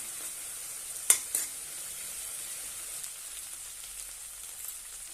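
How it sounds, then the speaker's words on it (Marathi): Tomatoes cook in a pan for dum aloo, a faint steady sizzle with one sharp spoon knock and a smaller second clink early on, heard alone and fairly quiet. "टोमॅटो छानपैकी शिजवून घेऊया।"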